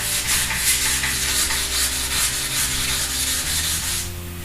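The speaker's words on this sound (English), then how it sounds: "So we go in there and we sand this out." Wet sanding by hand with Soft Sanders sandpaper gives a continuous, close scratchy rubbing with rhythmic back-and-forth strokes, fading at the end.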